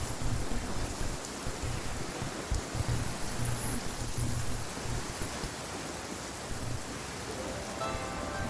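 Steady rain falls in Genshin Impact as an even, continuous hiss of drops that fills the scene at moderate volume, with no voices over it.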